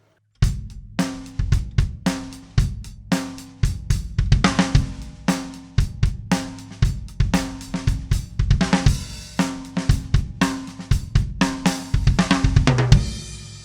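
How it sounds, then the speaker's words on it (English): A drum kit plays a groove with a short fill on beat 4, the bass drum hitting first and then the hands, repeated several times; close, loud and crisp, with no talk. "A real short fill, which sounds real nice, is just on beat 4, doing it in reverse, starting with the foot and then doing the hand."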